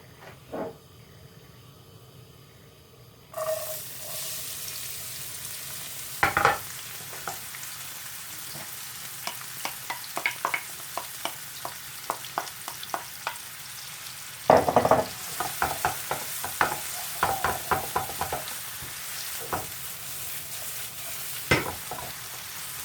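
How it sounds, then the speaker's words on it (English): Onions drop into hot oil for a hot chicken pathia with a sudden burst of sizzling, followed by a steady fry broken by repeated scraping and clacking strokes of a spoon stirring the pan, close and clear. "We are now going to add the onions."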